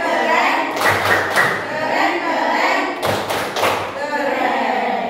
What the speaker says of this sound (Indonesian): Tepuk keren untuk Fakih.